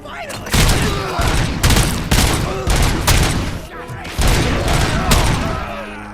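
Loud, close bursts of pistol fire from the Auto 9 in the video game Robocop Rogue City, a rapid series of heavy shots in clusters that roughly fill the stretch with little pause between them, with no speech.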